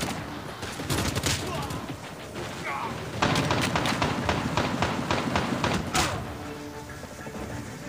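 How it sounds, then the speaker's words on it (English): A sentry gun fires in a frontline shooter video game, rapid continuous bursts of automatic gunfire rattling nearby for several seconds, with a short break before the next volley and a voice briefly heard over it. "Sentry gun"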